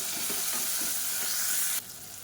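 Sliced onions frying in coconut oil for salna give a steady, close sizzle with light stirring scrapes, which drops to a quieter hiss near the end.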